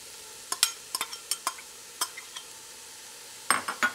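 Onions and jalapenos being stirred in a chili pot, a series of sharp scraping and clinking spoon strokes against the pot over a quiet background, close and fairly soft with brief gaps.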